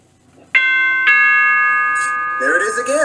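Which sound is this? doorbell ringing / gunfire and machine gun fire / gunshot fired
doorbell ringing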